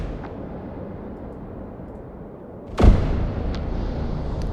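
Cannon fire from a Wwise weapons system: a single loud boom with a sharp attack, followed by a rumbling decay and a softer secondary crack over a steady low background hum.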